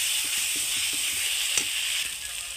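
Ground mustard paste thinned with a little water hisses and sizzles loudly in a hot pan, a continuous close frying sound with faint stirring ticks and no speech.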